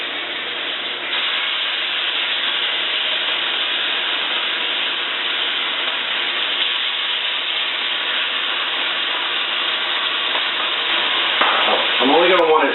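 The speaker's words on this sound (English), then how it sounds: "I'm going to sear the tops and then lay it down with the" Rack of lamb sears in a hot pan, giving a loud, steady frying sizzle that runs unbroken throughout, with a brief spatter toward the end.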